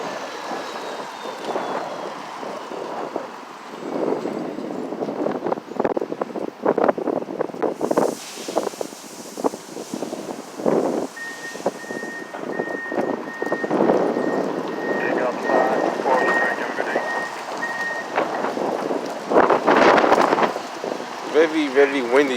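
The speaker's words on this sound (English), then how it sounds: "Very windy today" Strong wind buffets an outdoor microphone on a city street, making constant rough rustling and gusty surges throughout, with someone talking over it.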